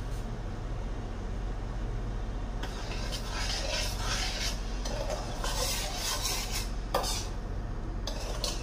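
Sugar boiling in a pot is stirred with a utensil, giving a steady bubbling hiss under repeated scraping strokes against the pot that come and go in short bursts, with no talking.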